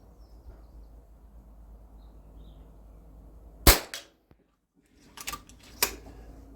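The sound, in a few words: FX DRS Tactical .22 airgun firing pellets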